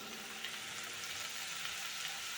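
Tomato and curry leaves sauté in a pan with spice powders, giving a soft, steady sizzle like light rain, with no voices.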